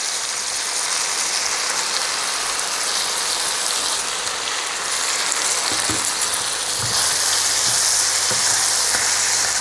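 Two large tomatoes frying in a pan for a Chettinad curry leaf gravy, giving a loud, steady, rain-like sizzle throughout with a few soft knocks near the end and no talking.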